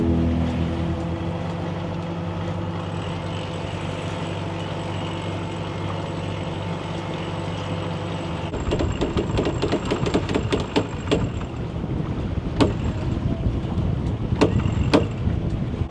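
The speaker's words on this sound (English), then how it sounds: "right now we're motoring for a little bit because the wind's not in our favor" A sailboat motors under engine power off Martha's Vineyard, its engine droning steadily and close, then joined halfway by louder rumbling, splashing and sharp knocks.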